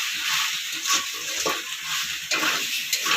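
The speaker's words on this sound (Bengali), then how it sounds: "ধনেপাতা কুচি সব দিয়ে আরও একবার মিশিয়ে নেব।" Chilli pasta with chopped coriander is stirred and scraped in a pan over a sizzling background, with soft shuffling strokes repeating every second or so, close and steady, with no talking.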